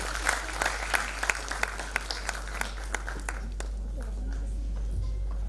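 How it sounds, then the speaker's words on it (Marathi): Audience applause at an award ceremony in Pune, a burst of clapping hands with distinct sharp claps that tapers off and fades into quiet room tone, over a low steady hum. "टाळ्या होऊन जाऊ द्यात एकदा यांच्यासाठी"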